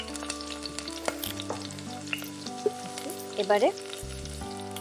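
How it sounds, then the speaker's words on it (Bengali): A bay leaf and dried red chili fry in hot oil for a Bengali ghee fish dish, with close crackling sizzle, a few spoon scrapes and clinks, and a brief spit of louder spattering near the end. "তেলের মধ্যে তেজপাতা আর শুকনো লঙ্কা ফোড়ন দেব।"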